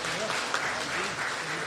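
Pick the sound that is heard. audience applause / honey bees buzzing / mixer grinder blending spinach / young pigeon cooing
audience applause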